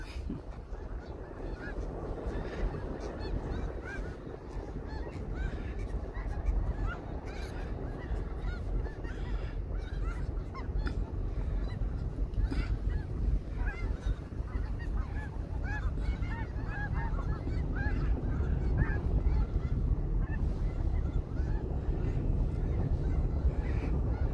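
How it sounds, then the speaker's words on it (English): Several geese honk repeatedly across an open field, a steady chorus of overlapping calls at moderate distance over low rumbling background noise, with no talking. "Got a few geese out here in this field."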